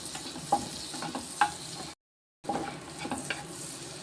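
Butter melts in a pan before sweet corn is fried, giving a soft crackling sizzle with light stirring clicks, broken by a brief silent cut midway.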